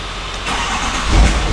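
A Ford truck engine cranks and catches after a battery charge, the burst of mechanical noise swelling into a rough idle, close and fairly loud with no talking.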